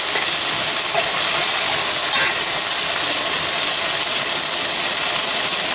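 Quails frying and being stirred in a pot with onion and honey, a steady, loud broadband sizzle and hiss throughout with faint scraping touches, close and with no talk.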